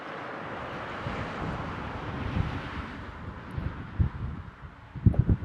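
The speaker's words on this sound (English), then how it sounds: "The wind's picking up" Wind gusts over a lake while fishing, a steady rushing buffet on the microphone with a few heavier thumps near the end.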